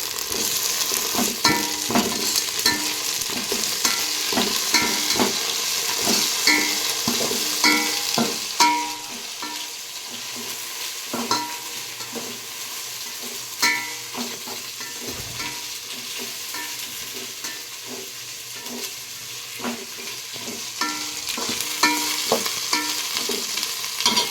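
Onions fry in oil in a pan for chicken biryani, a steady close sizzle broken by frequent scraping and clinking stirs throughout, with no talking.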